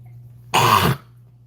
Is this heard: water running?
no